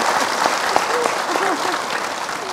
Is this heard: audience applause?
yes